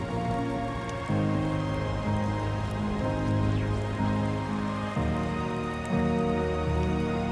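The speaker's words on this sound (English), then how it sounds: "Oh wait, of course, raining." Steady rain patters on a surface in the video game Death Stranding 2, with a sustained musical tone shifting underneath throughout.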